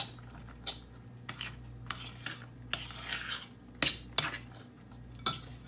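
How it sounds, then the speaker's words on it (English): A spoon stirs a mixture in a bowl for a brownie Christmas treat. Soft rasping scrapes repeat at irregular intervals, some ending in sharp clicks against the bowl, quiet and close. "So you're going to stir that all in."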